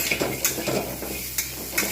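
Fried pointed gourd and potato stirred dry in a pan, with a continuous sizzle broken by several scraping strokes and light clinks of a spatula against metal, close and fairly loud.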